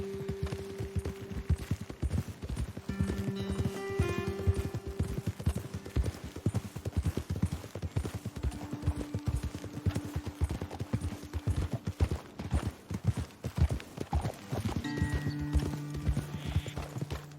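Steady clip-clop of horse hooves at a walking pace throughout, fairly close, with an occasional snort or whinny and faint background music, from Red Dead Redemption 2.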